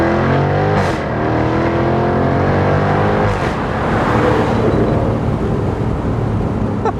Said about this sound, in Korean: 뚜껑을 열게 되면 이 제규어의 강렬한 배기음, 그리고 자동차가 내는 소리들, 이런 것들도 더 선명하게 들립니다